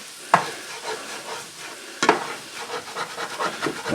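A utensil stirs and scrapes shrimp fried rice sizzling in a pan, steady frying hiss with rhythmic scraping and two sharp knocks against the pan, close and without talk.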